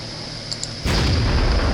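A tank gun fires in World of Tanks: a single loud, sudden cannon boom breaks the quiet after a couple of faint clicks and rolls on into a sustained rumbling blast with no talking.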